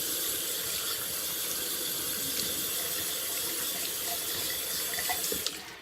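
Running water splashes steadily from a tap as a brush and lather are rinsed off, a continuous loud hiss of flowing water heard on its own.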